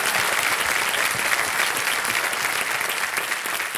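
A studio audience on a televised quiz show bursts into dense, continuous applause, a loud and even wash of many hands clapping that holds steady for several seconds without voices on top.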